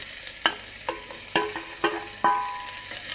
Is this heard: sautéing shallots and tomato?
yes